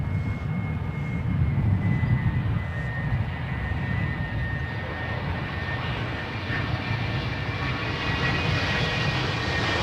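An aircraft passes close overhead near Adelaide Airport, its engine roar swelling loud and rumbling, easing slightly, then building again as it goes by.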